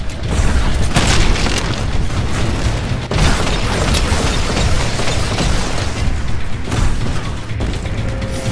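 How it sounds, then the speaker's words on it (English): Mortar Titans shelling a harvester in Titanfall Frontier Defense: heavy booms and blasts rumble continuously and loudly, with sharper impacts near one and three seconds and again around seven seconds. "There's Mortar Titans shelling the harvester like crazy."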